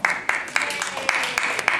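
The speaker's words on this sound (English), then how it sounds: "Hold your applause, please." Audience clapping at a public hearing at Newton South High School, a crowd's steady patter of hand claps with sharper individual claps standing out, fairly faint and with no clear voices.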